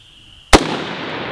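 A single sharp AR-15 rifle shot cracks loudly at close range during iron-sight zeroing, followed by a short decaying echo.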